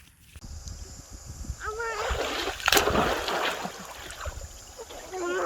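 Splashing in an outdoor swimming pool: water sloshes and splatters close by, with a bigger splash midway and smaller ones after it, while voices talk and call out over the water.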